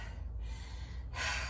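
Heavy breathing after a workout set, with a rough inhaled gasp and a louder exhaled rush close to the mic over a constant low background hum.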